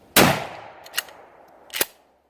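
A TAC-14 shotgun fires NSI law enforcement low-recoil buckshot: one loud, sharp blast with a decaying tail, then a fainter metallic clack and a second sharp clack near the end, likely from the action cycling.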